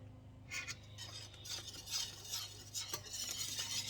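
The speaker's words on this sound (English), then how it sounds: "Stir that back in there." A spoon stirs salt and pepper into a Philly steak pizza topping in a pan, giving soft, irregular scraping and clinking strokes over a faint sizzle, close and quiet, with no talking.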